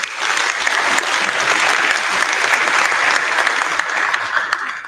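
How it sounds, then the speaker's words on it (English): Sustained applause from a crowd at a university sustainable buildings showcase night, steady and fairly loud throughout, with no pause. "a big round of applause for Dr. Jenny Zhu."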